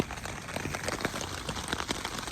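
Steady rain falls on a hiking trail along the Appalachian Trail, with dense close pattering of drops and no voices.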